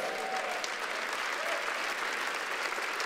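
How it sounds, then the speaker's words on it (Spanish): A church congregation applauds during a sermon, a soft, even wash of many hands clapping that holds steady for a few seconds, heard from a distance. "Dele un aplauso fuerte"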